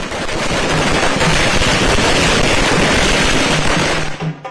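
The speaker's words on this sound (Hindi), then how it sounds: "ढोल नगाड़े के साथ जमकर आतिशबाजी।" Fireworks burst during a grand welcome celebration with dhol drums, a dense, continuous crackling barrage of rapid bangs, loud and close throughout before tapering off at the end.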